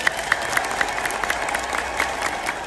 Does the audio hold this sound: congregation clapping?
yes